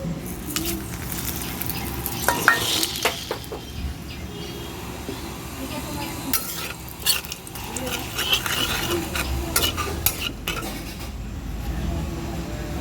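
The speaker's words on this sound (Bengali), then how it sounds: "এবার তেলে দিয়ে দেবো শুকনো লঙ্কা একটু চিনি তেজপাতা ফোড়নে" Dried red chilies, a pinch of sugar and bay leaf sizzle in hot oil in a home kitchen, a steady crackling fry broken by occasional clinks of a utensil against the pan.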